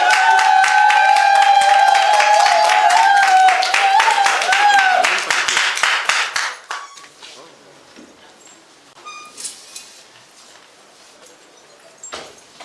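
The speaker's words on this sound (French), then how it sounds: "Applaudissez très très fort pour ce charmant monsieur" Guests at a town hall wedding break into dense applause for the groom, loud rapid clapping with cheering voices and a held tone over it, fading after about six seconds to scattered claps and murmured talk.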